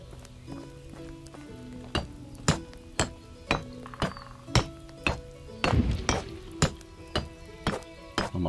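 Hammer blows from building work in the video game Medieval Dynasty, a steady series of sharp, loud strikes about one every half second, with a denser clatter midway.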